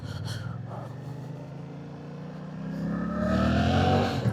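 A Suzuki GSX-8S motorcycle engine hums at low revs, then rises in pitch and loudness as the bike pulls away.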